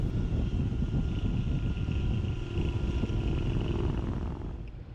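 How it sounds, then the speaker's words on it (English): A 2016 Honda NC750X parallel twin with a 270-degree crank and an aftermarket muffler rumbles steadily on the road, loud and continuous with wind rush, easing off at the end. "NC750 has aftermarket muffler on it, and it sounds really nice"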